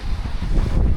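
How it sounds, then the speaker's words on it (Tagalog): Strong wind gusting across a microphone outdoors at a lakeside or seaside group outing, a loud continuous low rumble and buffeting throughout with no talk. "Lakas ng hangin."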